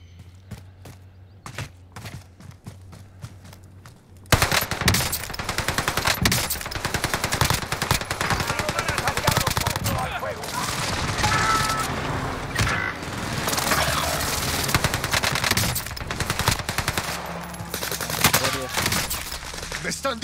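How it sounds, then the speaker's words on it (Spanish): Gunfire in the Warzone battle royale shooter erupts abruptly after a quiet stretch, dense automatic bursts and crackling shots filling the rest of the scene, loud and close, with a voice shouting through it. "¡Me están disparando!"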